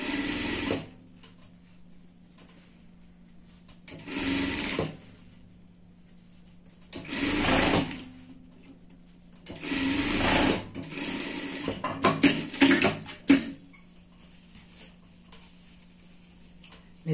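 A sewing machine stitches a seam on a fabric Christmas hat for pets in short repeated bursts of fast whirring, separated by quiet pauses, close and clear with no talking.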